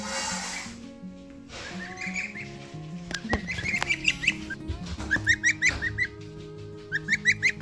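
Young geese kept in a tote on a homestead, a cluster of soft, rapid peeps and honks that start faint and build into repeated bursts of close calls, with a few bumps and knocks in the container.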